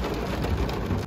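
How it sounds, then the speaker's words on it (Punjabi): Heavy rain pours down on a road in Gurdaspur, a dense, loud, continuous hiss of drops hitting the surface. There is no talking over it. "ਬਾਰਿਸ਼ ਬਹੁਤ ਜ਼ਿਆਦਾ ਆਉਂਦੀ ਪਈ ਹੈ"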